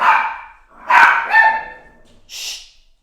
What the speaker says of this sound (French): c'est les chiens dehors.